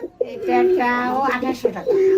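Caged pigeons at a sale coo again and again, with close, rolling calls filling nearly the whole stretch after a brief pause at the start.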